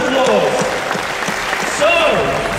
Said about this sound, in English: That's a huge round of applause.